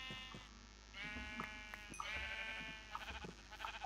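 A sheep in the Minecraft video game bleats several times in quick, nasal bursts, loud and close, with short pauses between calls.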